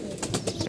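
Racing pigeons cooing, a brief low throaty murmur from a bird close by.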